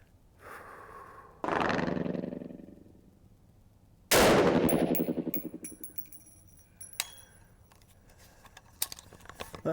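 A .350 Legend rifle fires outdoors over a chronograph: two loud, sharp shots a few seconds apart, each followed by a rolling echo, then faint clicks and handling noises.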